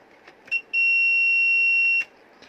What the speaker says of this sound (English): the instrument makes a loud beep and the screen turns red